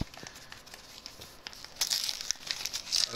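Wrapping paper crinkles and tears as a wrapped Christmas exchange gift is opened, soft rustling building into sharper, louder crackles near the end, with no talking.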